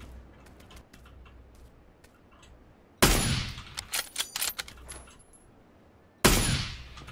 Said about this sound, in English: all these shots are so close